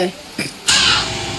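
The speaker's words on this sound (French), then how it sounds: "Oh, ce corbeau là." A crow cawing in a video game, a couple of harsh rasping caws, the last one loud and drawn out, heard close over faint background.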